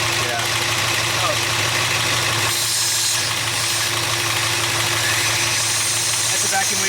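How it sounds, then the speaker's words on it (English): A truck engine with a vacuum leak idling steadily with a constant low drone, rough rhythmic pulsing and a faint hiss over it. "That's a vacuum leak."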